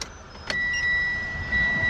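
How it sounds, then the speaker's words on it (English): Ignition of a turbo Mitsubishi Lancer turned two clicks to on with the engine left off: a soft click, then steady high electronic whines and tones from the car's systems in a quiet cabin. "not switching on the engine, just 2 clicks"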